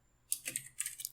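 A short burst of computer keyboard typing while a command is entered, several quick close keystrokes in two small clusters, alone and quiet.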